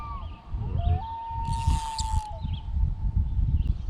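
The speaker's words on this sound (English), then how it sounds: "That's one of my favorite things, is hearing loons calling like that" A loon calling on a lake near a tent campsite, one long sustained wail rising and holding steady, heard at a distance over low wind and water rumble.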